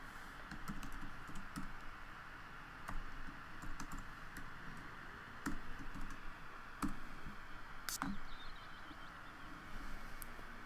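Computer keyboard typing in a Sims 3 game session, steady soft key taps with a few sharper clicks over a constant background hum, close and moderately quiet, no talking.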